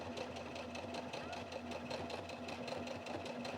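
A sewing machine runs steadily at close range, its needle mechanism producing a rapid, even mechanical chatter while stitching fabric guided along the presser foot, with a low motor hum underneath and no talking.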